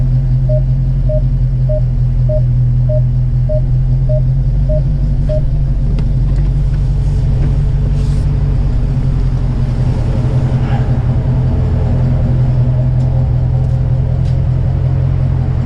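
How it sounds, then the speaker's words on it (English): A car's exhaust rumbles loudly and close by at a steady idle, with the engine note swelling and dropping through a few revs over a deep continuous drone. "Exhaust sounds so sweet."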